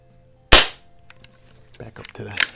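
A Crosman 66 Powermaster .177 multi-pump pellet rifle fires one sharp, loud crack, followed by quieter handling noises and a brief click near the end.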